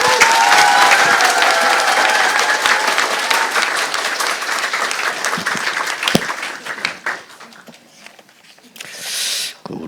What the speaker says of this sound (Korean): 우리 크게 우리 환영의 박수 한번 치도록 하겠습니다